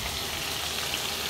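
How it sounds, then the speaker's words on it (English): Ilish fish frying in a pan, giving a steady, soft broadband sizzle that holds evenly throughout, close and moderately quiet with no voices. "I'm frying the fish."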